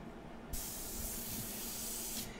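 An airbrush sprays India ink in one continuous hissing burst of nearly two seconds, starting and stopping abruptly, close by and alone against quiet room tone.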